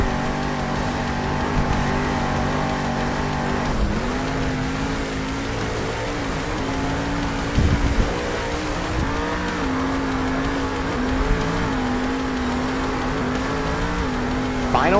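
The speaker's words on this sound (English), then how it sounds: "Tyler is off in that Whiplash monster truck" The Whiplash monster truck engine roars loudly and steadily at an arena event in Salt Lake City, its pitch shifting as it revs and surges, with a few heavy thumps along the way.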